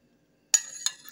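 A spoon clinks against a container while stirring homemade ayran, two bright metallic taps about a third of a second apart followed by softer scraping, close and alone in an otherwise quiet room.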